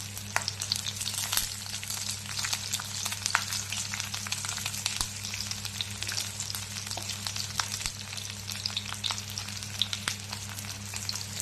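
Paneer masala fries in a pan with a continuous close sizzle, crackling and popping steadily throughout with a low hum beneath.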